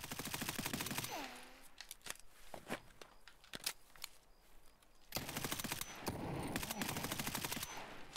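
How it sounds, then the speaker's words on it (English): Automatic gunfire in the video game Escape from Tarkov on the Interchange map, loud rapid bursts of shots in two main volleys with single cracks between, close and sharp. "Who's shooting at me?"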